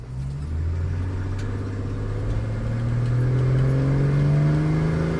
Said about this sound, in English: we're just going to drive her out, and we'll try and get a wide open throttle run in